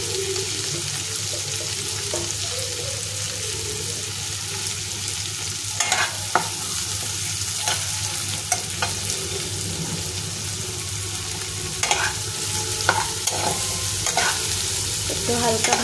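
Onions frying in oil in a pan for pasta, a constant crackling sizzle with occasional spoon scrapes and taps against the pan, close and steady.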